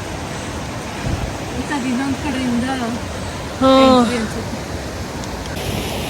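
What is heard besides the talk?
water flowing at Bhatta Falls waterfall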